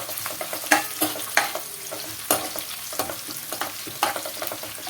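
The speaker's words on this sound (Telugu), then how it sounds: "ఉల్లిపాయలు అయితే ఫ్రై అవనిద్దామండి" Onions frying in a pan for a spicy gongura chicken fry, with a continuous sizzle and repeated close scraping and stirring knocks from a spatula.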